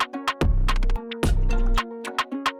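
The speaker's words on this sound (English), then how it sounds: "Had to add the 808." Heavy Roland 808 bass drum hits land twice in a music production, each a long booming low thump lasting about half a second, layered under a sustained tonal melodic part with sparse clicks.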